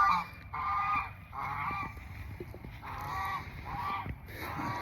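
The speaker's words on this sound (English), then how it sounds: "I apologize for the geese. Our geese are kind of walking by." Several geese honk loudly nearby as they walk past outdoors, repeated harsh calls in bursts with short gaps between them.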